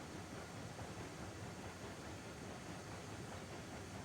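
A train rolls steadily along the tracks in the railroad game Railroads Online, pulling a string of freight cars with a continuous, even rumble and a faint rhythmic clatter, no voices over it.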